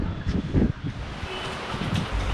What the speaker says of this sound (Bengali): হাওয়ার দাপটে ছোট বড় সমস্ত গাছপালা দুলছে।